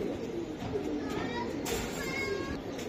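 Road Master racing pigeons, a hen and a cock, cooing softly in a few short rolling calls nearby, partly under someone talking, with a brief rustle midway.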